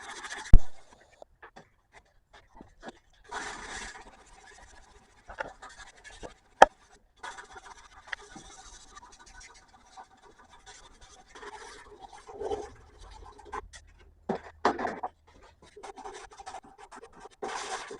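Hand sanding of custom bookend-matched knife scales with 180 grit sandpaper, heard as intermittent close, soft scratching strokes in short bursts separated by quiet pauses.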